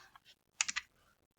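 A few crisp computer keyboard key presses, a Ctrl+C shortcut, come as a quick cluster of three clicks after two softer taps, close and isolated in a quiet room.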